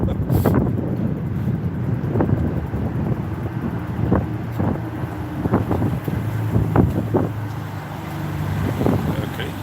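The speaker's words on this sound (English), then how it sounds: "It's windy again." Strong wind gusts buffet the microphone outdoors in Belgium during a livestream, a loud low rumble that surges and fades while someone talks over it intermittently.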